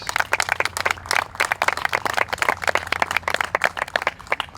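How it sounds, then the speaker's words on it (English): Lively applause for Lonnie Mims at a fire station groundbreaking, many hands clapping densely and steadily close by, with no voices over it. "So give him a round of applause, please."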